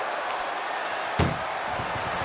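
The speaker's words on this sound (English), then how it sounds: "Trying to at least slam one door shut." An ambulance door is slammed shut in the WWE 2K24 video game, one sharp, loud bang midway through a constant roar of arena crowd noise.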